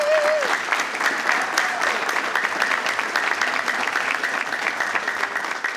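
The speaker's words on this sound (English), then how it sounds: "Let's give her a round of applause." Steady audience applause at a school board meeting recognizing an honoree, dense clapping filling the room from start to end, with a brief voice at the very beginning.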